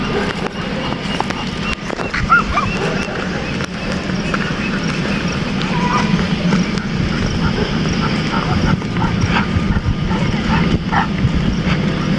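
A puppy out on a street walk gives faint, scattered yips and small barks, half-buried in a steady roar of traffic or aircraft-like rumble, with people talking throughout.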